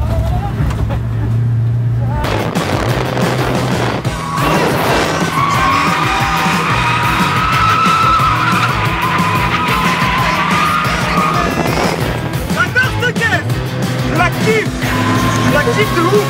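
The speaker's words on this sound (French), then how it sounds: "rentre dans le virage, tu tournes, regarde où tu vas aller et accélère" A car drifts into a corner at a drift event, tires skidding and engine roaring loudly and continuously close by, with excited talk and shouting over it.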